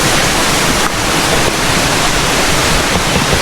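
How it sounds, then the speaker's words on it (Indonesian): River water flows near a hot-spring bathing area in a forest recreation park, a loud, continuous broadband rush with no pauses and no speech. "Itu sungai air dingin apa air panas"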